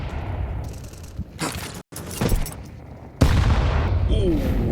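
Counter-Strike grenade detonations and gunfire during an IEM Katowice esports match: several sharp booms and bursts, with a heavy blast near the end, under faint commentary.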